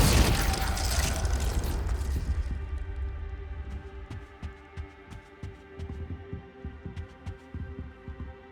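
A Confringo blasting spell goes off in Hogwarts Legacy: a loud, broad explosive roar that dies away over about two seconds, leaving a low hum with soft rhythmic thumps.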